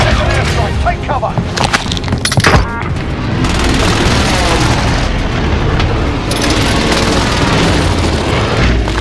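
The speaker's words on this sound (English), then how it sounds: "Enemy position airstrike, take cover." Airstrike explosions in Call of Duty Warzone on Rebirth Island, heavy booms and cracking blasts rolling together into a loud, continuous rumble, with voices heard in places.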